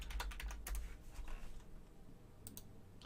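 Clattering keystrokes on a computer keyboard, quick clusters of taps at first, then sparser, quieter presses, close but low in level with no talking.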